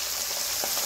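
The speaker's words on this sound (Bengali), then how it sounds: "এক সাইড ভাজা হয়ে গেছে আর এক সাইড আমি উল্টে দিচ্ছি।" Pabda fish sizzling in hot oil in a kadai, fried crisp and just turned to its second side; a steady close hiss with a faint scrape near the end, no voices.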